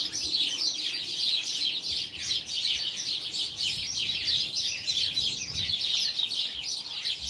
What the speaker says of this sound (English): there's birds fighting in the tree